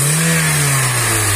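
A Honda car engine revs hard under throttle while overheating, its coolant hose swelling; a loud, steady close-up drone with a rising and falling pitch, no voices.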